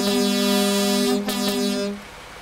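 A truck air horn blasts in American Truck Simulator, a loud sustained harmonic blare lasting about two seconds with a brief dip midway before cutting off.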